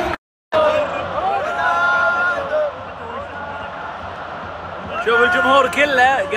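Football stadium crowd at the Portugal vs Switzerland World Cup match in Qatar, a massed chant rising and falling in rhythmic swells, loud and sustained, with someone talking close over it.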